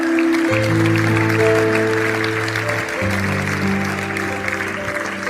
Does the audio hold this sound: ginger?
no